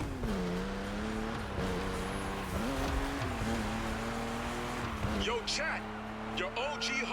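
Car engine from The Crew Motorfest racing game, a continuous droning engine note that rises and dips with gear shifts, with talking over it throughout.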